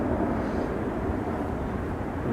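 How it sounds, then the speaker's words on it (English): A fixed-wing airplane passes over a lake in the flight path of Manchester Airport, its broad, steady engine roar filling the whole stretch at constant loudness with no voices. "I'll just take a second for that plane to go."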